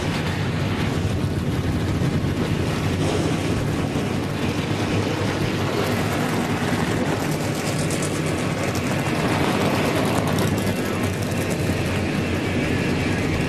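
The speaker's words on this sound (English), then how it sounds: "Drivers, start your engines!" NASCAR race car engines at Bristol for the 2014 UNOH 200, a dense sustained roar of many engines blending into one loud wash from a distance, with no voices over it.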